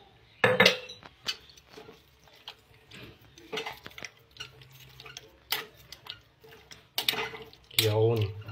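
Pakbet salad with kaong and cheese stirred in a bowl, irregular clinks and scrapes of a utensil against the dish, with a person talking between the stirring sounds.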